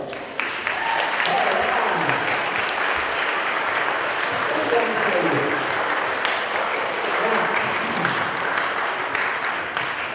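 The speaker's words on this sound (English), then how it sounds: "So give yourself a big round of applause." An elementary school audience gives a long, steady round of applause, many hands clapping in a dense continuous wash, with voices faintly mixed in underneath.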